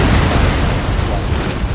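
Rocket ships firing during an Empire Total War naval battle, a dense roaring barrage of booms and whooshes filling the whole moment, loud and unbroken.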